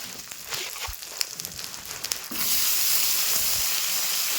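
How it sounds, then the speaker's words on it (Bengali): Dried fish frying in oil with salt and turmeric in a kadai, a steady close hiss that swells sharply loud about halfway through and holds. "আর এখানে আমি মাছগুলো নুন হলুদ দিয়ে ভালো করে ভেজে নেব।"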